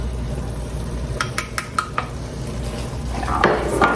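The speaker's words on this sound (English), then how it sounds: "Put all this together. Mix them around thoroughly." Ground meat stirred with black pepper and red pepper flakes in a pan for sloppy joes, with a few sharp clinks of a utensil against the pan over a low sizzle, then a louder stirring scrape, close by.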